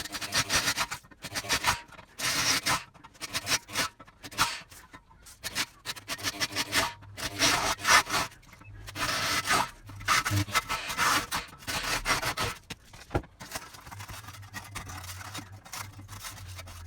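Screwdriver scraping carbon out of the exhaust holes of a BMW S1000RR motorcycle exhaust pipe during a decat link pipe fit: close, repeated rough metallic rasping strokes in irregular bursts, no talking.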